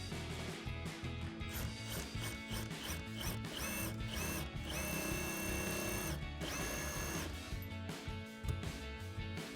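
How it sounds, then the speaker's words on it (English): Power tool with a 19 mm socket tightening the top nut on a coil-over for a 2005-2014 Mustang, whirring in close bursts with rattling clicks and tonal whines between pauses, no talking. "we'll tighten that down with our 19mm socket"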